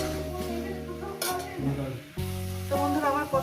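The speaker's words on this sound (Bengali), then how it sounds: "ধনে পাতা দিয়ে একটু কষিয়ে নেবো আরো 2 মিনিট" Cauliflower, potato and egg curry with coriander leaves being sautéed in a pan, a soft sizzle broken by scraping and clinking of a spatula against the metal, with some tonal kitchen noise mixed in.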